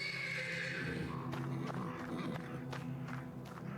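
A horse in the video game Black Book whinnies amid clopping hooves, a steady, fairly close stream of sound with no talk.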